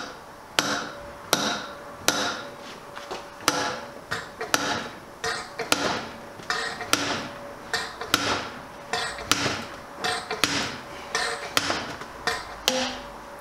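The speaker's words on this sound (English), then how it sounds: "slide hammer action" Repeated sharp metallic clanks in a steady rhythm, roughly one per second, as a slide hammer pulls apart a Honda NTV 650 motorcycle fork, each a hard impact with a brief ringing tail, close by and loud.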